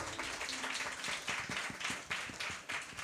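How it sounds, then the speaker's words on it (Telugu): A church congregation claps loudly together, a dense run of sharp hand claps with a roughly regular rhythm, close and lively throughout. "గట్టిగా చప్పట్లు కొడదామా?"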